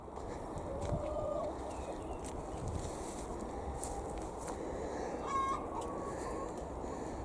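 Chickens on an allotment, let out of their pen, cluck and call over steady outdoor background noise, with a brief higher squawk near the end.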